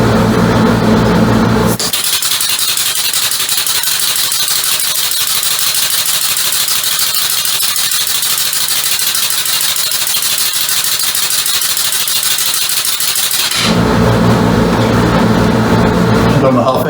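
A compressed-air motor driving a bicycle assist gives a steady, continuous hiss and rattle for about twelve seconds, loud and close, with a brief change in tone at the start and end.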